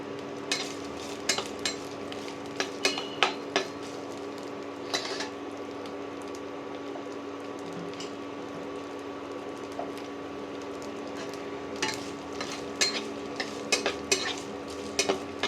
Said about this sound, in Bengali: প্রথমে এই নারকেল কুচিটা ভেজে নেব